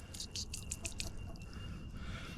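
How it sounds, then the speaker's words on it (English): Water squirting into a Chick-o-Matic chicken water dispenser, heard as a close run of quick wet spurts and drips in the first second, then trickling fading into quiet background. "when you press this, the water squirts out"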